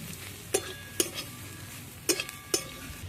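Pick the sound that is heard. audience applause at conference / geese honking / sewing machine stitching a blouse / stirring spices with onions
stirring spices with onions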